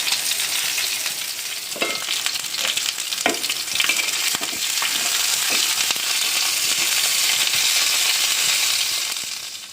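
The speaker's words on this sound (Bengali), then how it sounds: "এক চুলায় মাছ ভাজা হচ্ছে" Fish frying in a pan on a stove, a loud steady sizzle and spatter with occasional scraping knocks of a utensil, continuous and close with no talk.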